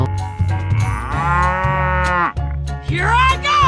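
A cow in a 3D animal sliding video game lets out a long, loud, close moo that swells and bends in pitch, followed by a second shorter lowing call, with no voices over it.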